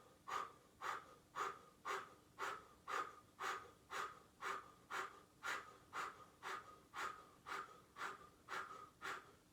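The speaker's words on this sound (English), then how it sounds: "Breath of fire." Rapid, rhythmic breath of fire yoga breathing, a steady run of about twenty short, forceful nasal exhales at roughly two per second, faint and close, with no talking.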